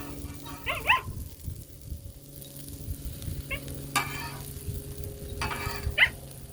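Boca burgers sizzle on a Blackstone griddle in a steady low fry, with a few scraping touches of a spatula and a dog barking briefly several times in the background.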